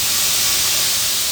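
Sherry cooking wine hits a hot pan with a loud, steady sizzling hiss that stays strong and unbroken throughout, close up.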